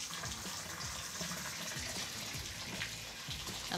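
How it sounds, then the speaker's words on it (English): Water runs steadily from a shower faucet just turned on after a Delta T17T cartridge and trim install, a constant faint rushing spray with no talk. "And then I'm gonna turn our water on."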